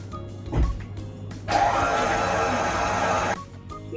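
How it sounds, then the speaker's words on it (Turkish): A stand mixer with a paddle attachment whirs steadily for a couple of seconds at close range mixing cake batter of eggs, yogurt, oil and sugar, starting abruptly and cutting off, with faint kitchen noise before and after. "mikserimize pedi ucunu takıp karıştırmaya başlıyoruz"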